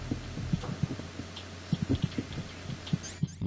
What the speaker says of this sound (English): You can hear the heartbeat there.